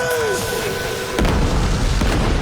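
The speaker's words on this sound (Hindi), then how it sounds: "महमद अपनी सारी तोपों से शहर पर हमले किया करता था" Cannon fire as a sound effect: a tonal descending whine gives way to a heavy, deep boom that keeps rumbling, loud and close.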